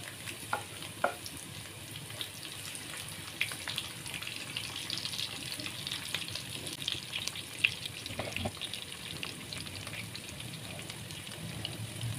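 Tempeh and garlic frying in a pan, a steady soft sizzle with occasional clicks and scrapes of stirring, moderately close with no talking.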